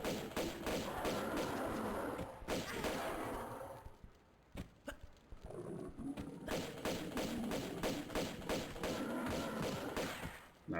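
Repeated gunshots from Tomb Raider 2, rapid sharp thuds in dense bursts with a short lull in the middle, loud and close.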